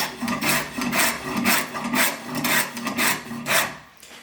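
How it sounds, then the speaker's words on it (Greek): A hand file rasps against a wooden piece being shaped into a pastrangoulo, with about eight steady, rhythmic back-and-forth strokes heard close up and alone. "Τώρα από εδώ και πέρα θα το κάνω με τη λίμα βέβαια."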